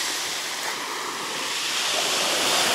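Sea surf washes continuously onto the winter beach at Riviera in Sochi, a steady broad roar of waves close by that swells slightly toward the end, with no voices.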